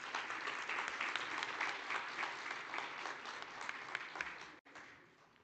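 Steady, dense applause fills the hall for the closing speaker at the Namibia Oil and Gas Conference 2025, sustained and even before a brief dropout and a quieter tail.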